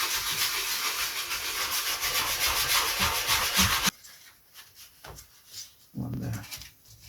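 Steady, close rubbing of sandpaper across wood on a vintage aerobatic glider build, a continuous rasp that stops abruptly midway, followed by quieter handling and a brief voice.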